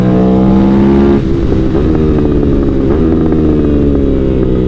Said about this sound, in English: the audio that you get from the wick of the throttle is aided by this SC Project exhaust